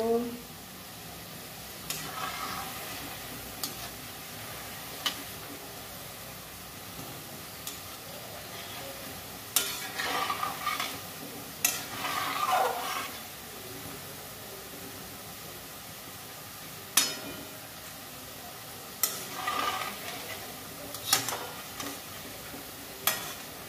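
Semolina fries with a soft, steady sizzle in a pan, broken by intermittent scraping strokes of stirring.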